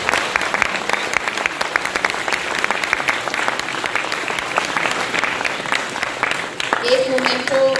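A film festival audience in Lucknow gives a steady burst of applause after an interview, sustained and fairly loud throughout, with a brief tonal sound near the end.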